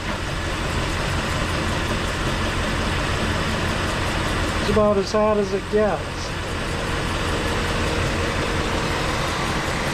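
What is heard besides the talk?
1966 Ford Galaxie 500 engine idling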